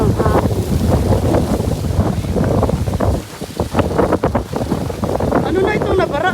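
A strong squall wind roars across a small fishing boat at sea during net fishing. The wind gives loud gusty rushing with clattering and splashing close by, and someone talks over it.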